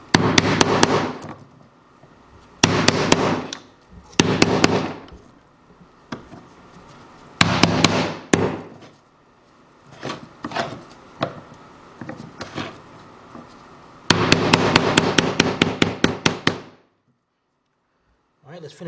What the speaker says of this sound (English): take my hammer, and that way you're not using your hammer and damaging that seal.